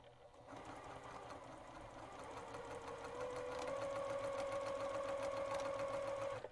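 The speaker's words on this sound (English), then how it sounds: "I just keep this point on this red line and sew." A sewing machine stitches quilt pieces together in a steady, continuous whir that runs for several seconds and builds slightly in pace, close and alone with no talking.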